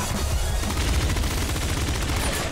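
Pop gun fire in the top-down shooter Nuclear Throne: a fast, steady rattle of light repeated shots with no pauses, loud and constant through the whole stretch.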